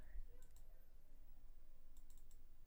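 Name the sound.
computer mouse double-clicking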